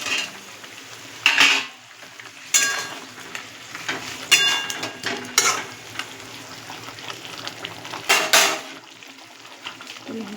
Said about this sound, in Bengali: এবার আলুগুলো দিয়ে কষিয়ে নেব।